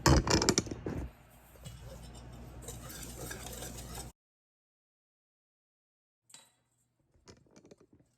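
Whisking dry chocolate cake ingredients with sugar and salt in a bowl, a quick scraping, rattling stir up close that stops abruptly, followed by silence and a few faint knocks.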